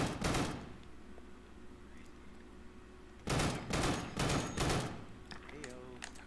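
Bursts of automatic turret fire in the Deadside video game at an airfield mission: a rapid volley at the start, then a longer cluster of rattling shots after a quiet gap, with a faint voice and game sounds between them.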